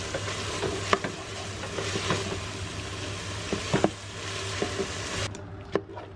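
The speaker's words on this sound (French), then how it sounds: "Je fais revenir à feu moyen, les légumes sont surgelés donc je préfère y aller doucement au début." Frozen couscous vegetables sautéing in a pan over medium heat, a steady soft sizzle with occasional stirring scrapes and clicks, close and moderately quiet, dropping away near the end.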